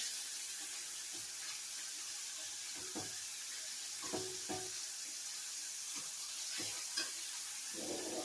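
Fish fillets frying in a pan for fish tacos, with garlic and onions added: a steady broadband sizzle with a few soft stirring and scraping knocks, at a low, even level with no talking.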